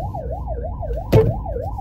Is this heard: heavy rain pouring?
no